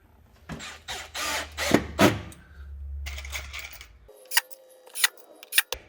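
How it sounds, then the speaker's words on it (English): Screws go into a Milwaukee Packout mounting cleat with a quick run of close, sharp clicks and scrapes, then a brief whirring drive and a few isolated taps. "Now before I put this one on, I'm going to put a couple screws in."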